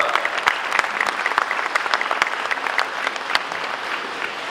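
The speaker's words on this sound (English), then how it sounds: "Another round of applause for Dr." An audience at a university special congregation claps for an honoured doctor, a loud, continuous applause made of many distinct hand claps that holds steady without letting up.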